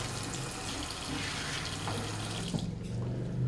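Cold tap water runs steadily over a veterinary bronchoscope being rinsed after an enzymatic cleaner soak, a continuous close splashing rush at a sink with no talking.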